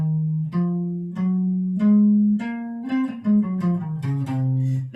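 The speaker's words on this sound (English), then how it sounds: "And Locrian, probably the one we use the least, is root flat 2, flat 3, 4, flat 5, flat 6, and flat 7." A Locrian mode scale played as a run of about nine clear, sustained pitched notes in steady succession, moving up and then back down, alone with no talking.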